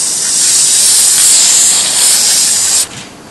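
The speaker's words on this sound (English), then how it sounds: "And I've got some archival spray, some varnish, and this will help to seal the surface." Archival varnish aerosol sprayed over a resin and acrylic painting: a loud, steady close hiss held for nearly three seconds, then cut off abruptly, leaving a quieter residual hiss.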